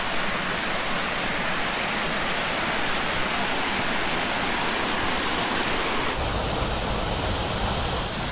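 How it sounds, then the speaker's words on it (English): Small man-made streams built to fill mill dams in a valley near Sheffield, flowing steadily as a dense, close rush of water that stays continuous throughout, with a slight change in texture near the end and no voices. "and these are little streams that were built to fill the dams"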